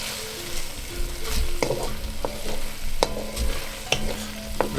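Vegetables cook in a pot over a fire while mackerel rundown is being prepared, a close, continuous sizzle and bubbling broken by several sharp clinks and scrapes of a utensil against the pot, with no talking.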